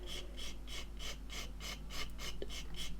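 A 240 grit sanding stick rubbed across a 1/72 Curtiss H75 Hawk model aircraft part, close, quiet rhythmic rasping strokes about three per second, alone.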